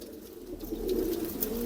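Pannu pigeons give soft, low cooing, faint at first and swelling slightly as the calls continue with little else around.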